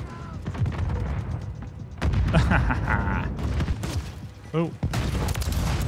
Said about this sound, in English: Chuck a grenade down for good measure